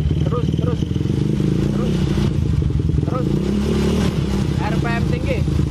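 A Jaguar motorcycle charging coil fitted to a Honda GL Pro runs at raised RPM, a steady loud engine drone with harmonic rumble throughout, while people talk over it.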